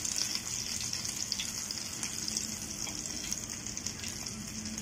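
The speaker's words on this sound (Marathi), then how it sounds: "हे बघा, आपले मशरूम इथे फ्राय झालेले आहेत. आता मी हे तव्याच्या साईडला काढते" Mushrooms fry in oil on a griddle pan, giving a steady, close, even sizzle with a bright hissing crackle that holds without a break, and no voices over it.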